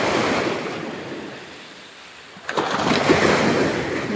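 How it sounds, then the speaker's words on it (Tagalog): Strong sea waves surge and crash at night during handline fishing, a loud broadband wash that eases briefly and then swells up again, with wind buffeting the microphone. "Lakas ng alon."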